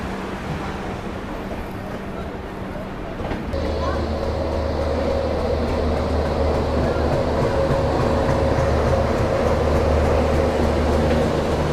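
Sampoorna Kranti Express train pulling into Rajendra Nagar Terminal railway station at platform 2, a continuous low rumble and hum that grows heavier partway through, with station ambience around it.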